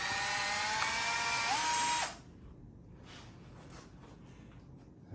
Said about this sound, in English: I'm going to go and drill a hole in the pot here.